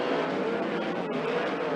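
A 360 sprint car accelerates up to speed at Skagit Speedway, its engine a steady, loud, broadband roar that holds through the whole stretch without a break.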